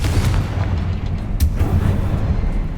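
Explosive booms from the Confringo fire spell in the Hogwarts Legacy video game, a couple of sharp bursts over a constant rumbling low background with no talking.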